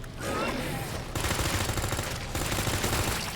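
Rapid handgun and SMG gunfire in the Resident Evil 2 remake, loud, continuous bursts of shots filling the whole stretch with a brief gap near the middle, no talking.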